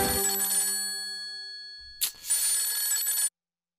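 A telephone bell rings loudly and alone in a Tamil TV drama scene, a steady trilling ring that cuts off briefly near the two-second mark, resumes, then stops abruptly.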